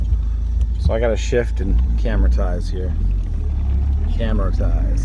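Steady low engine drone of a 1999 Mitsubishi Eclipse Turbo Spyder heard from inside the cabin while under way, with someone talking over it throughout.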